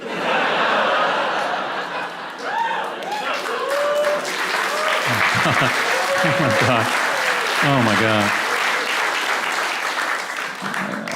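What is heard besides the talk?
audience applause at a stand-up comedy show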